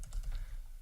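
A few quick keystrokes on a computer keyboard, soft, close and clicky, in a brief burst.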